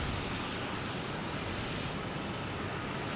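A JetBlue airliner arriving from Cancun roars steadily at Boston Logan, a broad continuous engine rumble and rush held at a constant level for a few seconds.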